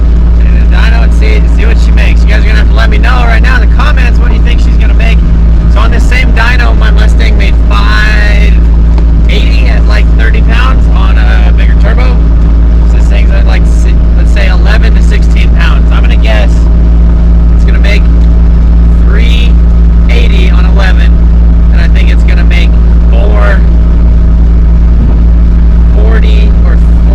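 A single-turbo 2JZ Toyota Supra Mk IV runs on a dyno with a loud, constant engine drone throughout, while a voice talks over it almost continuously.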